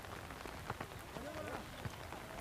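Steady, faint rain patters on surfaces as a soft continuous hiss, with a few scattered nearer drops and faint voices underneath.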